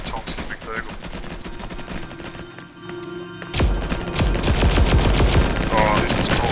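A raygun in the Roblox game Flag Wars fires in rapid clicked bursts of sharp electronic zaps over game background noise, loud and close.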